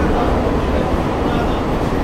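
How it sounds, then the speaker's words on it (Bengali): An AC local train on the Sealdah–Ranaghat line in West Bengal skips Payradanga station at speed, giving a loud, steady low rumble and rushing roar that fills the whole stretch without a break. "ট্রেন ক্রস করছে"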